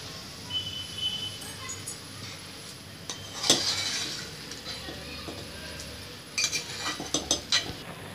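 A spoon stirs boiled moong dal into vermicelli cooking in a pot, with faint bubbling beneath and a few sharp metallic clinks and scrapes against the vessel, no talking.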